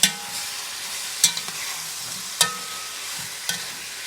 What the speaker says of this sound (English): Add my green seasoning. I give that a good stir.